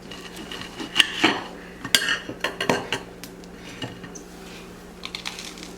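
A knife clinks and scrapes against a plate while avocado toast is cut, giving a few sharp metallic taps and short scraping bursts at close range, with no voices.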